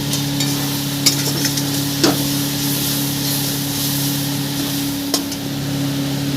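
Spices and melted tomatoes for a tangra fish oil curry sizzle and fry in a pan, a loud steady hiss with a few sharp stirring clinks, close up and without talk.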